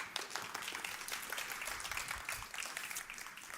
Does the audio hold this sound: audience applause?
yes